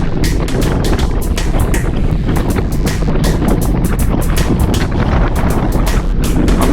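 Strong wind buffeting a car on a journey along wet roads after rain, a loud continuous roar with rapid gusty pulses throughout, no voices.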